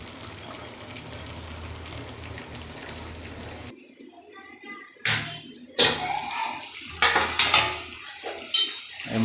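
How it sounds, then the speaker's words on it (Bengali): Chicken pieces cooking in their own juices with no added water are stirred in a pot. A dense sizzling wash gives way to a quiet pause, then several sharp, close metallic clanks of a spoon against the pot. "এই মাংসটা আর একবার নাড়া দিয়ে দিচ্ছি"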